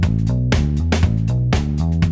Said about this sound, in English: Let's say that the bass line should sound like this.